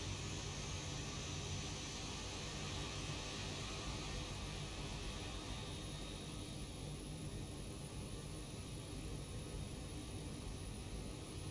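Steady broadband jet engine roar of an airliner taxiing in the X-Plane 12 flight simulator, a Toliss A320neo or Zibo 737-800, constant and even throughout with no talking.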